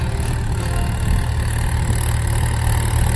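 A Mahindra tractor engine runs steadily close by, a dense low rumble with a constant hum and no talking over it.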